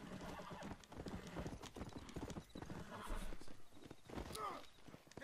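Steady clip-clop of horse hooves with an occasional whinny, up close, over busy game sounds and some talking, in the video game Red Dead Redemption.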